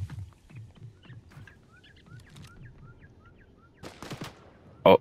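Fortnite gunfire heard as a run of rapid, fairly faint automatic shots, followed by a few louder sharper bursts and one loud close crack near the end.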